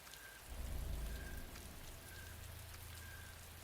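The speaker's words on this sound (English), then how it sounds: "Actually, rain in the forest is quite a chill sound." Rain falls through a forest in the video game Anarchy Online, a soft, steady wash of patter with a low rumble swelling briefly early on, faint and continuous with no voices.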